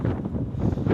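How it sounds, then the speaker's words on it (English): Strong coastal wind buffets the microphone along the Benidorm Levante seafront, a loud low rumbling roar that gusts and dips across a brief second. "it is still quite windy down here"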